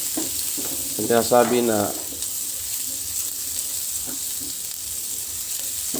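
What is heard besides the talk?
garlic sizzling while frying in a pan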